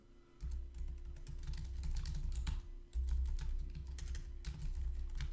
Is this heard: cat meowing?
no